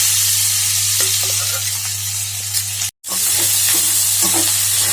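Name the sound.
frying boti with green chillies in a pan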